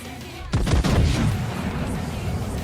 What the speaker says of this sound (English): Firing on the Bismarck again.